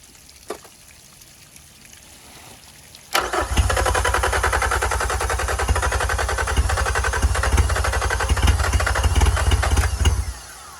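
A 2001 Honda B90 outboard motor, just repaired at the lower unit and thermostat, starts after a few faint clicks, then runs with a loud, steady, rough mid-pitched engine drone. It revs a little under throttle for about seven seconds and then cuts off.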